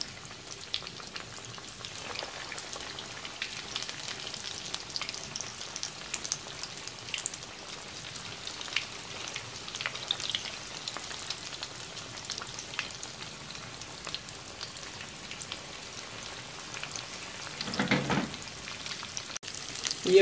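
Egg kebabs fry in moderately hot oil, giving a soft, continuous crackle and patter of sizzling bubbles, quiet and close, with a slightly louder burst near the end.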